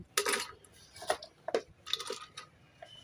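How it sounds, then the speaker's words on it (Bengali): Cut flat beans (shim) tumble into a pressure cooker in a home kitchen, making a series of close, sharp clattering knocks and rattles against the metal pot at an irregular rhythm, with no talking. "এবার প্রেশার কুকারের মধ্যে দিয়ে দেব কেটে রাখা সিম"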